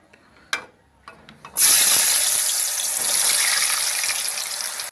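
Potatoes dropped into hot oil in a kadhai burst into a loud, dense sizzle that starts abruptly after a few faint clinks and stays steady to the end.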